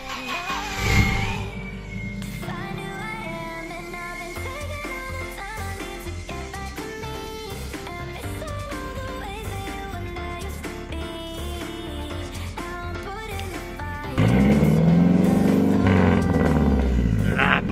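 A Volvo's engine revs hard for a burnout, rising and falling through loud sustained roars with tonal engine harmonics, then surging into a heavier, louder howl near the end as the tires start to spin.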